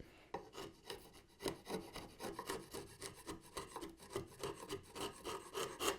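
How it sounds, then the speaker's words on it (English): A long paring chisel pares wood on a bench clamp build, giving a run of close, rhythmic rasping scrapes with short bursts at steady intervals, quiet overall and alone without talk. "I just wanted to use one of my paring chisels here, just to, oh yeah, that's so much easier to work."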